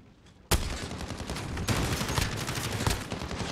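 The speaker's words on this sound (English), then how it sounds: "Throwing a nade mid gunfight like that is sometimes not a good idea." Video game gunfight: a sharp opening shot bursts into sustained rapid automatic fire, loud and close, with a few heavier cracks standing out over several seconds.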